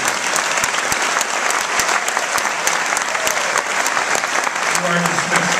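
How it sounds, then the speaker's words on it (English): Audience applause at a school awards night ceremony, a steady wash of clapping filling the room throughout, with no voices breaking through. "Ladies and gentlemen, a big round of applause for all the Cum Laude Society members."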